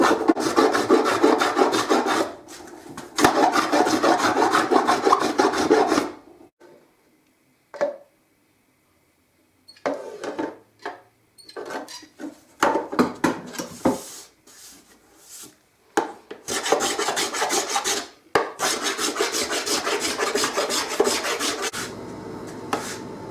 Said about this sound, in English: when I get close to the depth I want, I'll start using my own planes